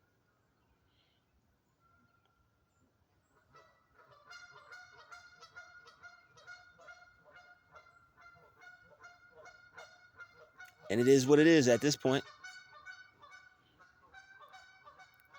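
Several geese honk loudly in a burst from nearby behind someone speaking over a steady layer of softer bird calls outdoors.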